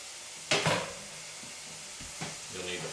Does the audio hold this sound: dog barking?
no